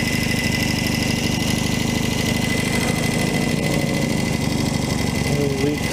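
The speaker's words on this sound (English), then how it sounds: "Probably idling a little high." A 1964 Royal Enfield Interceptor 750 engine idles close by in a steady, loud mechanical chug, slightly fast, with a voice talking briefly over it near the end.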